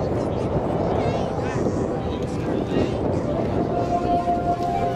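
Aerobatic airplane performing point rolls on a vertical up line at an air show at Jones Beach, New York, a steady loud engine roar with a crowd and announcer talking over it throughout.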